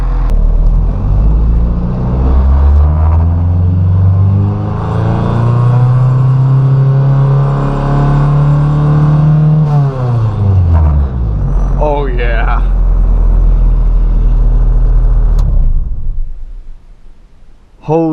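A project car's engine runs steadily during a power steering test, a loud continuous rumble whose pitch rises and falls as the wheel is worked, with a brief squeal-like whine near the end and talk over it.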